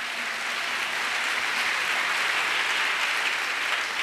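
Congregation at a French-English church prayer service clapping together as an offering of praise, a dense, loud, sustained wash of many hands with no voices on top.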